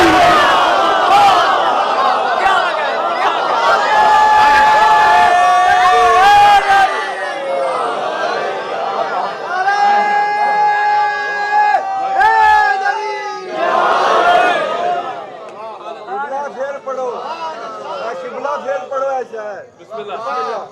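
A large crowd chants religious slogans in unison at a Ramzan majlis in an imambargah in Sheikhupura. The loud massed voices swell and fall in repeated waves, then fade, leaving a single voice speaking near the end.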